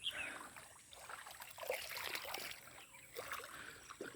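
Faint water trickles and ripples in a small, cold, shallow stretch of water beside a garden. It is a steady, soft flow heard at low level, with no voices.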